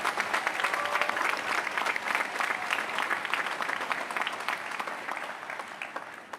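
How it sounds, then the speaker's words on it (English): Large crowd applauding faculty and staff at a university graduation ceremony, sustained dense clapping that stays strong and fades slightly toward the end. "Please join me in a round of applause for our outstanding faculty and staff."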